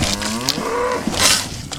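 Cows mooing on a farm in the heat of summer, long, loud lowing calls, one overlapping another, close by and with no talk.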